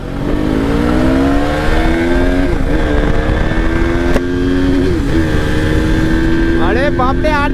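Yamaha R3 and KTM sport motorcycles race past together, engines loud and close with rising revs and gear changes throughout, while people shout and talk over the roar.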